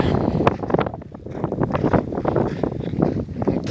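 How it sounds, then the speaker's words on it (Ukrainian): Gusty wind blows over open fields, thumping and rumbling against the microphone in uneven bursts that swell and ease over a few seconds. "І вітер повіває."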